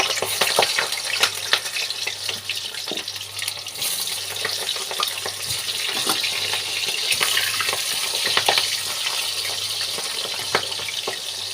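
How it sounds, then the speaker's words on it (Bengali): Green plantain pieces frying in hot oil in a wok, a steady loud sizzle with crackles running throughout, no voices. "কাঁচকলাগুলোকে ভেজে নেব।"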